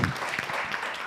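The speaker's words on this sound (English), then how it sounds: "So let's clap for her again." An audience at a forum on refugee access to labour markets claps in a brief, dense burst of applause.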